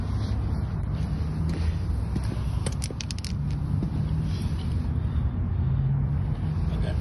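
A 1989 Ford F-150 XLT Lariat running through dual exhaust, a steady low rumble that holds at a constant level, with wind buffeting and a few faint clicks over it and no talk.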